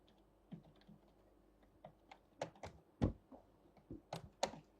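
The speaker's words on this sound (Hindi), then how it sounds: "भाई ये कीबोर्ड चेंज कराओ, बहुत तंग कर रहा है।" Faulty computer keyboard being typed on, scattered soft key clicks that build into a few sharper, heavier taps near the end, close and faint in a quiet room.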